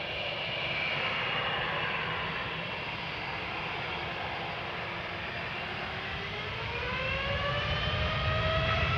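A TUI Boeing 787-8 Dreamliner bound for Punta Cana at Amsterdam Schiphol gives a continuous engine roar with a rising and falling whine, steady and moderately loud for the whole stretch, no voices.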